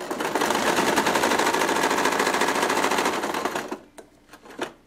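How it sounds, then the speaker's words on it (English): Steady, loud rapid stitching from a sewing machine sewing a Waldorf doll, running for about four seconds before stopping, followed by a few small handling knocks. "Go at your own speed. You don't have to sew at 11 miles an hour."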